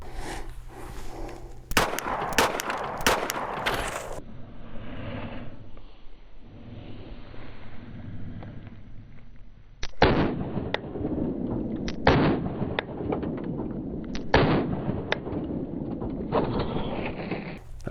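Gunfire into a Level IV body armor plate: several sharp, loud outdoor shots in a quick cluster, then a pause, then more spaced shots, each cracking out and echoing.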